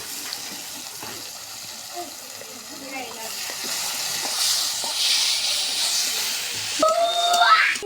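Chopped onion with bay leaf and cinnamon frying in hot oil for a drumstick and egg curry: a steady broadband sizzle that swells midway, with a sharper clatter near the end.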